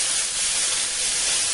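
Two pounds of lean hamburger dropped into a preheated 5-quart Dutch oven sizzle with a steady, loud hissing spray that holds evenly throughout, with no voices.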